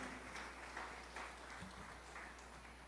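A church congregation claps together during a Spanish-language sermon, a faint steady patter of hands in a reverberant hall with light murmuring underneath.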